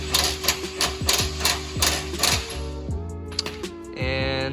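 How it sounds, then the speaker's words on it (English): A socket wrench ratchets a spark plug into the exhaust of a G35 fitted with a spark plug flame kit, giving a close, busy run of rapid metallic clicks in bursts. The clicks slow and thin out toward the end. "he has a little socket wrench thing right there, and he's just kind of screwing in the spark plug"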